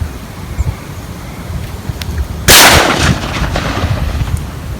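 A "Lan Thung" gas cannon used to scare pigeons from a rice field fires a single sharp, loud blast that rolls off into the open air amid steady wind noise.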